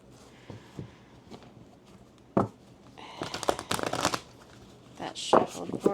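Large oracle cards riffle and slap together in quick bursts during a shuffle, close and crisp, with soft handling noises before and a voice talking in between.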